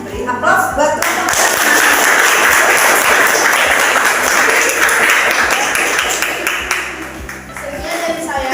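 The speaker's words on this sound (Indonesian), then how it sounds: "Dari kelompok pertama beri aplaus buat kelompok" Group applause in a classroom: a steady wash of many hands clapping fills the whole stretch at full loudness, sustained throughout with no break.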